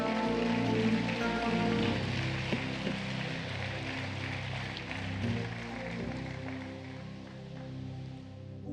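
Dense, sustained clapping from a large congregation at a church service fills the space, a steady rushing wash that stays loud throughout with a soft tonal hum beneath.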